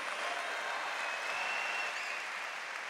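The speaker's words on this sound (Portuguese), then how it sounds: "Pode aplaudir, pode aplaudir, pode aplaudir." Church congregation applauding during a Catholic sermon, a steady dense wash of many hands clapping at even loudness throughout with no voices over it.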